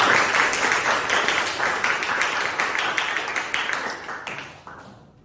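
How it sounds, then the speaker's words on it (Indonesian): A group in a classroom setting gives a round of applause at the end of a school lesson, brisk overlapping clapping that starts loud and steadily tapers off before stopping. "Tepuk tangan untuk semuanya."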